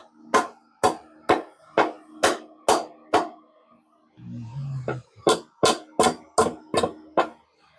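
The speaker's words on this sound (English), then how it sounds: "I'm going to have to get a hammer and beat it out" Sharp metallic hammer blows beat out a stripped screw in a steady rhythm, about fourteen hits, with a short pause midway filled by a low scraping rumble.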